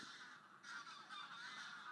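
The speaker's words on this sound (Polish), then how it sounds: "to gęsi." Geese honk repeatedly at a moderate distance, with overlapping calls forming a steady noisy chorus.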